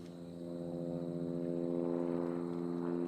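An aerobatic propeller airplane pulls up to the vertical at a national aerobatics competition, a continuous buzzing engine drone with stacked harmonics rising a little in loudness, heard at a distance and alone.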